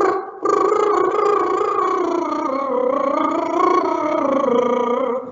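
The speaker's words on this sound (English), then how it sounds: "When we put it with a lip trill, it sounds like this." A voice sings a melody through a buzzing lip trill in a music lesson, the fluttering pitched tone sliding up and down continuously for about five seconds, close and fairly loud, with no talking.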